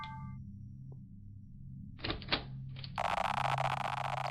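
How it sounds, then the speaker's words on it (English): A lock opens in the video game Even20: The Interference of Parallels. A short tonal chime gives way to a pair of mechanical clunks, a brief whir, and then a steady, loud electronic hum. "That's the sound of the lock opening."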